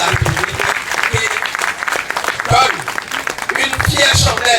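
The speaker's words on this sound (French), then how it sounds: "je souhaiterais que tout le monde puisse applaudir notre président de la République" Audience applause for the President of the Republic at an event, dense clapping from a crowd that runs the whole time with voices and shouts mixed through it.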